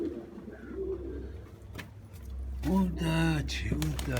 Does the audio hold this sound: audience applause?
no